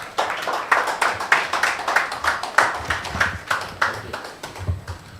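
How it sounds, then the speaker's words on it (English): Conference audience at a criminal law review event applauding after a speech, a group of rhythmic, fairly loud claps pulsing evenly in a hall. "let us give him another round of applause"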